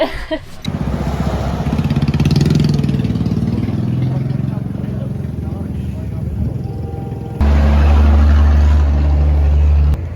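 A jeep engine idles as it warms up on a volcano road in East Java, a steady, close rumble that grows louder and deeper near the end, with people talking over it.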